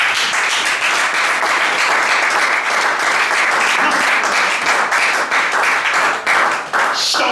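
A church congregation applauds loudly and steadily, a dense wash of clapping hands filling the room for several seconds with little variation, some shouts and voices mixed in.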